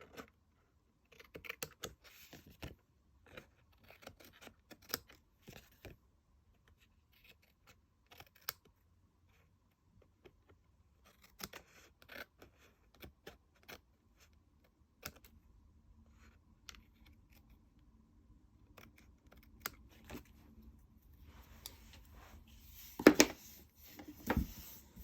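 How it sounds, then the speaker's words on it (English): Snips trimming excess paper from a Paper Pumpkin card project, sparse quiet snipping clicks scattered through mostly near-silence, with a louder cluster of clicks toward the end. "using my snips, we will trim off the excess"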